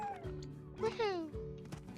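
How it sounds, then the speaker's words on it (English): Cats meow several times, with rising and falling cries close by, amid quiet human talking and background noise. "listen to all the meows."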